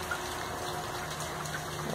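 Heavy rain pouring down on a farm in Brazil's Northeast, a steady, dense wash of water noise with no breaks, fairly quiet and even throughout, with no voices.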